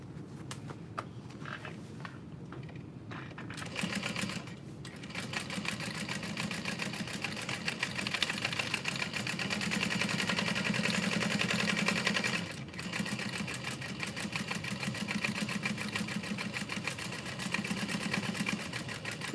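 A sewing machine top stitches a leather bag at a long stitch length, running as a continuous, fairly steady mechanical whir with a brief pause and slight speed changes.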